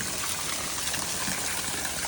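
Heavy rain pours down without gutters and beats on plants beside a porch, making a dense, steady rushing hiss that stays constant and fairly loud throughout, with no talking.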